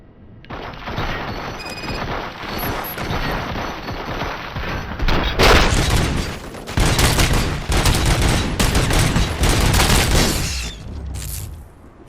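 Heavy sustained gunfire from multiple weapons in the RoboCop: Rogue City video game, with dense overlapping bursts and loud volleys that intensify midway and run continuously for about twelve seconds.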